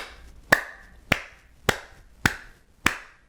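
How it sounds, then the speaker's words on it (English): Five sharp hand claps ring out at an even, unhurried rhythm, each one crisp and close with a short decay, made with the hands held wide in front of the chest. "you bring your hands wider than your torso, and you do maybe half a dozen claps"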